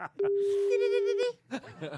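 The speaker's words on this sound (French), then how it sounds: "Ça sonne chez Christian Strada." A single steady telephone ring tone sounds for about a second on a French comedy panel show, with people talking just before and after it.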